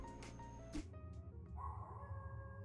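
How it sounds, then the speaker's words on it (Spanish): A small female dog yips and barks a few times in quick bursts, followed by a softer whimper, all over steady background music. "Ah, es un perro. Una perrita."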